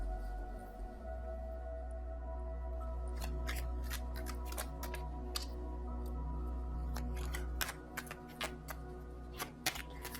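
Tarot cards being shuffled and drawn for a reading, sharp papery flicks and snaps in bursts over a steady low hum, fairly close and moderately loud, with no voices.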